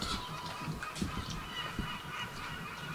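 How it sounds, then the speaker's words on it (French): Birds squawk repeatedly on a morning promenade in Ruse, Bulgaria, a noisy flock calling over and over at moderate distance with steady background ambience. "Tiens, regarde les oiseaux là. Comment ils gueulent."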